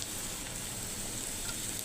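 Green chilies sizzling in hot oil in a frying pan while cooking a fish-head dish, a steady close hiss of frying with no voices.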